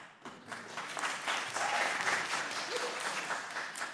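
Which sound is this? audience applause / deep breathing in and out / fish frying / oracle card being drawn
audience applause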